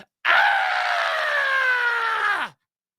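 A single sustained human scream rises abruptly, holds loud and steady for about two seconds, then slides down in pitch and cuts off into silence.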